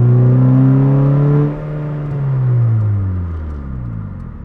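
A Honda Fit Si with a swapped K-series engine revs hard while driving, a loud, close engine drone whose pitch climbs, dips and then sweeps down again as the revs fall, with no talk.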